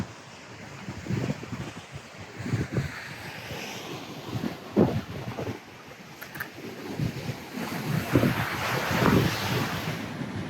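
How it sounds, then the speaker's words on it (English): Ocean waves crash and wash ashore at the tip of Watsons Bay in Sydney, near a lighthouse, a steady roar of surf with repeated swells breaking over heavy wind rumble, no voices. "you start to see all of the waves crash, and it's just beautiful, and the sound is just amazing"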